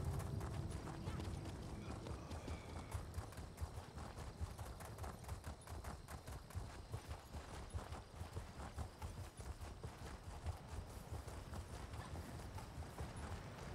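Horse hooves clip-clop steadily at a gallop while riding a mount in the Elder Scrolls Online video game, a continuous rhythmic patter running under game music throughout.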